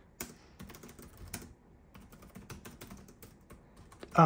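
Close-up clatter of Lenovo ThinkPad E14 Gen 5 laptop keys being typed in quick irregular bursts, with short pauses between runs of keystrokes.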